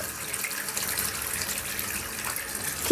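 Water runs steadily from a household tap, a continuous close splashing hiss with slight fluctuations throughout.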